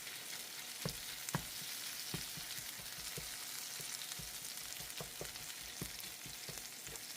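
Chorizo sizzles steadily in a pan for a breakfast taco with potatoes and eggs, a dense broadband hiss broken by a few sharp scraping clicks as the meat is broken apart; no voices.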